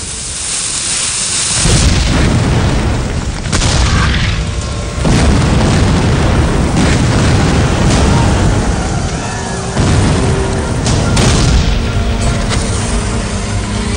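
Civil War cannons firing at Gettysburg, each 12-pound gun sending off a loud booming blast that rolls and rumbles away, several heavy reports over a continuous roar.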